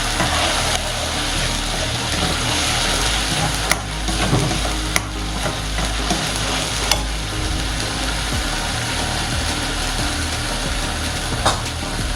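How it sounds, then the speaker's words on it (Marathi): Cumin, mustard seeds and onion paste fry in hot oil for aubergine bhaji, a steady close sizzle with stirring scrapes and a few sharp pops throughout, no voices. "थोडे जिरे टाकू, थोडी मोहरी आणि कांद्याची पेस्ट।"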